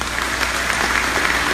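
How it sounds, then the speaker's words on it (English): Short burst of steady clapping from the crowd at the 2017 Gainey Cup awards ceremony, moderately loud and continuous, with no talk over it. "I'll give yourself a round of applause, please"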